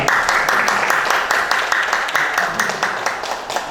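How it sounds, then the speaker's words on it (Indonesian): A crowd claps steadily for a few seconds at a literature session in Yogyakarta, the applause moderately loud and even, with a murmur of voices underneath. "Boleh tepuk tangan dulu terima kasih"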